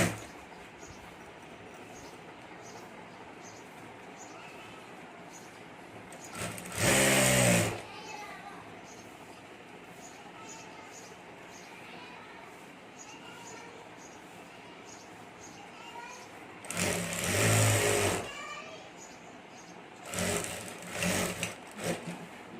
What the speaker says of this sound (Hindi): यहाँ सिलाई करके ये जीप और अस्तर ये जोड़ देना है।